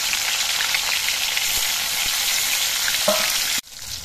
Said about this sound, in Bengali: একইভাবে আমি বাকি মাছগুলো ভেজে নিচ্ছি।